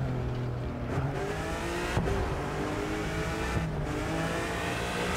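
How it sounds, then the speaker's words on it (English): Turbocharged car engine heard from the cockpit in a racing video game, upgraded to over 700 horsepower, droning steadily with harmonic engine tones and brief shifts, loud and continuous with no talking. "Oh, the turbo's so sick! Sounds really, really good from the inside."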